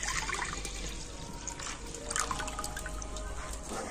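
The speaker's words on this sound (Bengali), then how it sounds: "তো দুধটা তো আমি আগের থেকে ছেঁকে নিয়েছিলাম, আর এখন আমি কড়াতে দিয়ে দিচ্ছি।" Strained milk poured into a wok (kadai) for making chhana at home: a steady liquid stream and trickle runs continuously and fairly close, with no talking.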